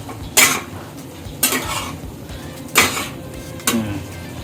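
Okra being stirred in a pan for dahi bhindi, four distinct scraping strokes of a utensil against the metal at a steady pace, fairly close and loud, no voices.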